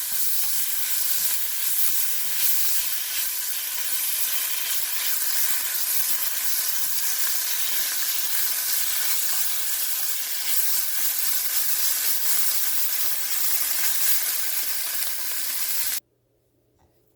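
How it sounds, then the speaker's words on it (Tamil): Tuna fish mixture seasoned with salt sizzles and fries steadily in an oiled pan, a loud, even hiss that runs throughout and then stops abruptly near the end. "டூனா ஃபிஷ் நீங்கள் எது வேணும்னாலும் போடலாம். நல்லா வதக்கி விடுவோம்."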